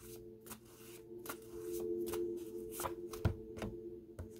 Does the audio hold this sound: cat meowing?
no